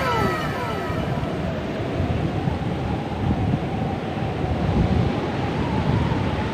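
High surf at a beach resort roars in a steady, continuous wash of crashing waves and wind, loud and close with no clear pauses.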